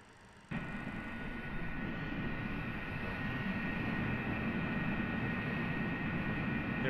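The engines of a ValuJet MD80 in Microsoft Flight Simulator 2020 spool up to takeoff throttle, a whine and rumble that jumps in abruptly and then builds into a steady, loud roar.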